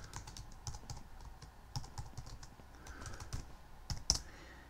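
A password is typed on a computer keyboard, with a quick irregular run of close, soft key clicks ending in a sharper final keystroke.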